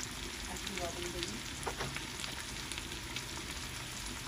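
Bitter gourd (karela) frying in a pan with green chili, turmeric and salt makes a faint, steady hiss with light crackles and a soft clink or two, heard quietly and alone.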